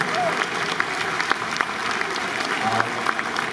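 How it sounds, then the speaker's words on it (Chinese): Stadium crowd in a domed ballpark applauding MVP Chen Shih-peng of the Fubon Guardians: broad, sustained clapping with scattered sharper claps, a public-address voice faintly mixed underneath. "掌声送给世鹏。"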